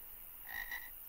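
A low croaking sound like a frog, two short raspy bursts close and quiet, in a bog-themed roleplay setting, with no talking.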